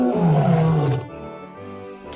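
A tiger's deep, loud roar in a children's cartoon about animals, one long swelling call that drops off sharply after about a second, leaving a softer musical tail.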